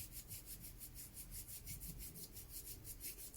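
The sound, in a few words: hands rubbing between fingers, palm rubbing back of hand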